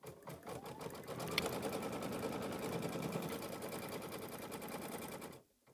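A sewing machine runs a placement line in black thread on a mini quilt, a steady close whir with rapid needle ticks for about five seconds before cutting off abruptly.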